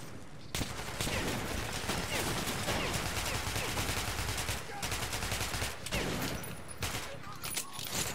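Relentless machine gun fire in Metro Last Light, a dense unbroken rattle of rapid shots running almost the whole time, with a couple of brief breaks in the firing.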